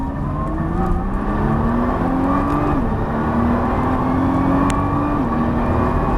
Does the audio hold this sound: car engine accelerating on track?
yes